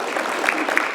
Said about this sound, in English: Let's give a round for Betsy.